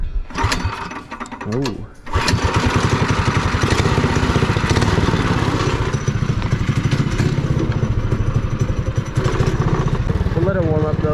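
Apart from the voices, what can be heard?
Predator 212cc engine running on go-kart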